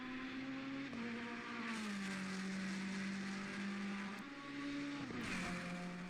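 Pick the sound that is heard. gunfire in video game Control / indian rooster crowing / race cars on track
race cars on track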